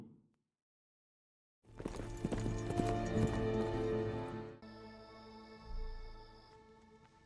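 Horse hooves clop steadily on hard ground after a brief silence, with music or ambience continuing underneath and fading later.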